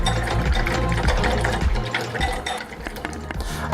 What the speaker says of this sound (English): And a teaspoon of sesame oil. We're gonna whisk those together.